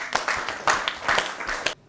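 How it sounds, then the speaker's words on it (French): An audience claps in a short burst of uneven, brisk applause lasting under two seconds, then stops. "On applaudit très très fort."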